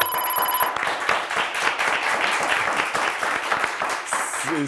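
Studio audience at a Turkish television quiz show breaking into applause after a correct answer, a sustained crowd of clapping hands filling the room, steady and fairly full before easing at the end.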